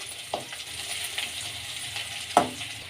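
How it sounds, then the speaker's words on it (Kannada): Green chilli, ginger and garlic frying in hot oil, a soft steady sizzle with a couple of light clinks of a spoon stirring in the pan, no voices. "ಈಗ ಶುಂಠಿ ಬೆಳ್ಳುಳ್ಳಿ ಹಾಕ್ಕೊಳ್ಳೋಣ. ಫ್ರೈ ಮಾಡ್ಕೊಳ್ಳೋಣ ಚೆನ್ನಾಗಿ. ಎಣ್ಣೆ ಫ್ರೈ ಆಗಲಿ ಮೊದಲು"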